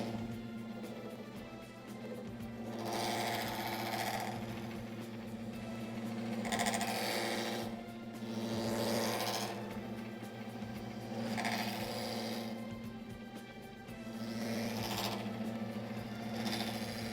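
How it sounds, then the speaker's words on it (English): A lathe spins a punched copper candleholder blank under a steady motor hum, while a metal-spinning tool presses the copper in repeated swelling scrapes every couple of seconds, close and fairly loud. "We'll give it another go."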